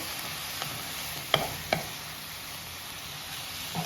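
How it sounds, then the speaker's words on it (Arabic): Chopped chicken, about 200 grams and washed in vinegar and salt, is stirred with onion in a cooking pot: a steady faint sizzle with two brief utensil clicks near the middle. "حاولوا تخلطوها هكا مع بعضياتها مع البصله"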